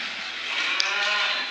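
Cattle moo on a farm after calving, with a Belgian Blue cow among them: a low bovine call under a steady wash of broadband noise, with no talking.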